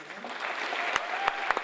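Audience applause at a high school spring band concert, a dense wash of clapping with a few sharper claps standing out near the end, fairly close and steady throughout the short burst.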